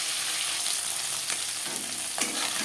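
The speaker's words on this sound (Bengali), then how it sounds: "মাছ হালকা করে ভেজে নেব।" Tangra fish shallow-frying in hot mustard oil, a continuous close, bright sizzle with bubbling crackle, plus a couple of short clatters of a utensil moving the pieces.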